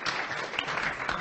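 Audience applause at a sustainability studies alumni panel, a steady wash of clapping from a crowd that fills the whole moment at an even level.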